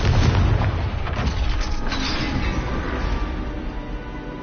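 Confringo fire-spell blasts in a wizarding video game, a loud, heavy rumbling explosion that rolls on for several seconds and slowly fades, no voices.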